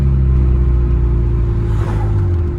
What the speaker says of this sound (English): right now the compressor is also making a noise, but it's gonna go quiet soon